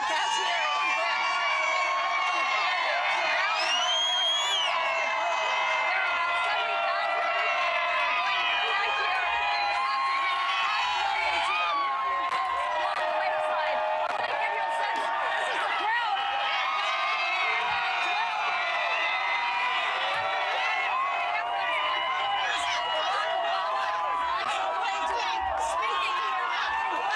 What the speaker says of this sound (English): That crowd around you is so powerful.